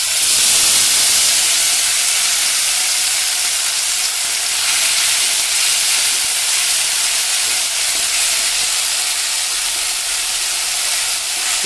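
Spice paste goes into hot oil with fried dried red chillies while cooking vegetarian banana flower kofta, producing a loud, steady hiss and sizzle that starts strong and carries on evenly, close up and without talking.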